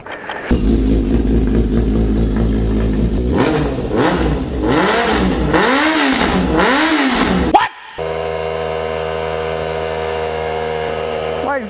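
A mini motorcycle engine revs hard while being ridden, a loud buzzing whine that rises and falls in repeated swells, then cuts to a steadier idle-like drone near the end.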